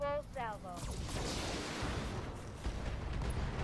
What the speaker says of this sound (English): Let's fire on him.